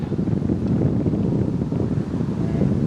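Wind blows steadily outdoors on an archery hunting opening day in New York, a dense, even rushing roar buffeting the microphone throughout, with no speech.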